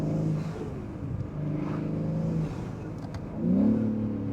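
A Manhart MH3 650 BMW M3 Touring tuned to 650 horsepower revs up in repeated pulls, the engine note climbing and dropping, heard from inside the car at moderate volume.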